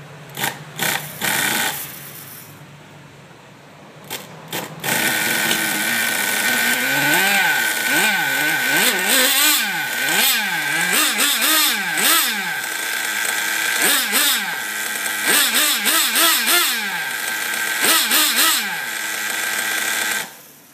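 A motorcycle engine being started and tested while being tuned, a rough start followed by a steady loud idle and repeated revving swells that rise and fall, heard up close and alone.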